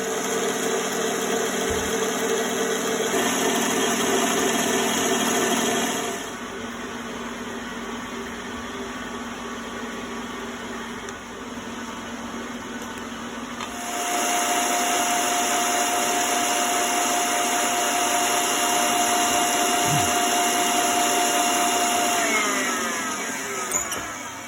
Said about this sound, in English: I'm going to whip the egg yolks with the brown sugar.